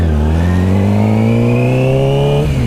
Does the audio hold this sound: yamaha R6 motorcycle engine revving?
yes